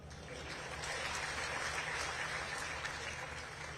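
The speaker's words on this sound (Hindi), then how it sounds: "आप तालियां वगैरह पीटते" Audience applause at a Hindi public speech, a steady, fairly distant wash of many hands clapping that holds for several seconds with no one speaking over it.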